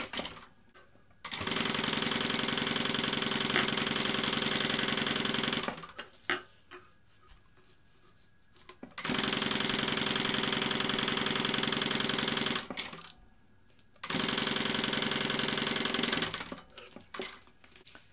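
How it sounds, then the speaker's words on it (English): A sewing machine stitches together the mesh slip pocket of a BeHip 2.0 bag in long steady runs of close, even whirring, stopping twice for short pauses before starting again. "I'm just sewing these together."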